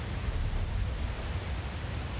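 Waterfall in The Elder Scrolls Online video game: a steady, broad rushing roar of falling water, continuous and fairly loud, with no talking.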